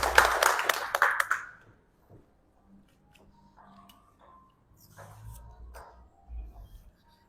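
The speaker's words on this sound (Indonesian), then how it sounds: "Tepuk tangan dulu semua." A short burst of students clapping together in a classroom, loud for about a second and a half, then quiet with scattered small taps and faint voices.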